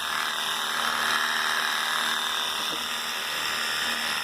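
A WORX HydroShot power washer sprays in a steady, unbroken hiss with a faint whine running through it, close by and alone for the whole stretch.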